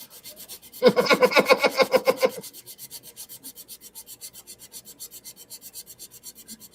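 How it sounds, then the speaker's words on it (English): Rhythmic rasping strokes of sanding on wood, about a dozen quick back-and-forth rubs, then fainter steady scraping continues, close by with no talking. "I'm good to go back to my sanding now."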